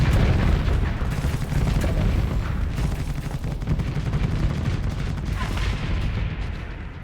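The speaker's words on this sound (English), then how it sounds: "Missiles coming in." Incoming missiles burst in the space game Starsector as a loud, sustained barrage of rumbling explosions and crackling hits, densely packed with no break across the stretch.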